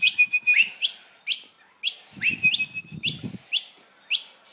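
Pale-faced rosellas giving a rapid series of high, sharp chirping calls in short repeated bursts, fairly close, with faint low murmuring in the middle.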